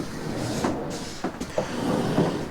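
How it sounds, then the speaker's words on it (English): Sliding farm-style barn doors in the master bedroom of a 2025 Keystone Bullet 2290BH travel trailer roll closed, giving several knocks and thuds over steady rumbling noise. "So they gave you 2 farm doors so you can actually close it."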